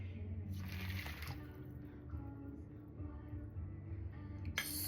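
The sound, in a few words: pouring water mixture into gluten free cracker mixture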